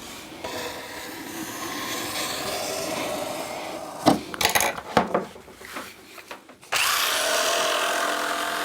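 A jigsaw cuts a curved line through a plywood board, a steady close buzzing that breaks into choppy, uneven bursts partway through before running continuously again.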